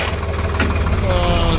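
A tractor engine idles with a steady, close mechanical rumble and vibration, a brief louder burst partway through, and a voice speaking over it.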